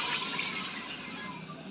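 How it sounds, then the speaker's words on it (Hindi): Steady gush of a glass of water poured into a cooking pot of kaddu gosht (pumpkin and meat curry), a soft continuous splash that tapers slightly toward the end, heard alone. "अब हम इसमें शामिल कर देंगे 1 गिलास पानी का।"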